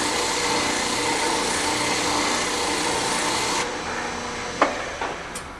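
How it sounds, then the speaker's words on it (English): An oscillating spindle sander works wood with a steady, loud whirring grind that cuts off partway through, followed by a few light knocks and taps in a quieter room. "now you want to sand to the line"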